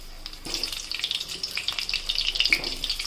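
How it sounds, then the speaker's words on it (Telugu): Slit bitter gourd pieces fry in oil with a bright, bubbling crackle that rises and falls in quick bursts, close and fairly loud, with no voices. "ఫ్రై చేసుకోవాలి ఇవి"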